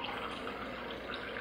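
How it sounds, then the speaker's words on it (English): About 8 ounces of water from a tap pours into a measuring cup as a steady, moderately quiet rush of running water with no talking. "I take a simple measuring cup, fill it up with about 8 ounces or so of water"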